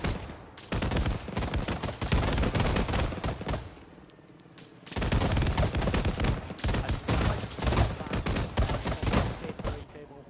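Gunfire in the Arma 3 military game: dense bursts of rifle and machine-gun fire, loud and continuous, pausing briefly mid-span before resuming, with voices talking underneath.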